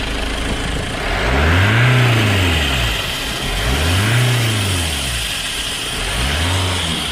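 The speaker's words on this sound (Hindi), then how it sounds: "जैसे विजल साउंड आ रहा है जिस जगह से इसका जो मैनीफोल्ड लीकेज है।" A BMW 320d diesel engine revs up and falls back three times in a slow rhythm, with a steady high whistle from a leaking manifold hissing above it, loud and close.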